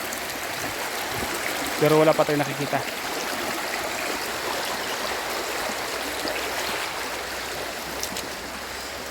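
A mountain stream flows steadily as a constant, close broadband rush of water, with someone briefly speaking over it early on.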